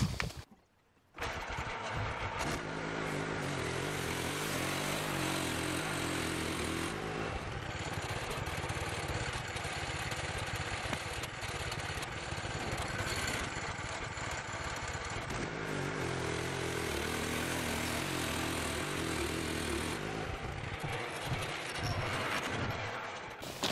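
A sawmill cuts through a log, its engine roaring steadily and loudly close by for the whole stretch, with only a brief dip at the very start.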